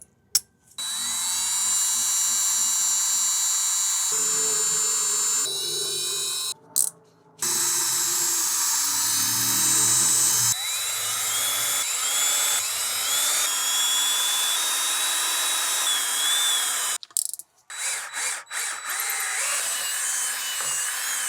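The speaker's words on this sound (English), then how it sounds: "then we will drill some holes" A power drill whines loudly in several long bursts while drilling holes in a boat, stopping and restarting between holes, with brief pauses of quiet.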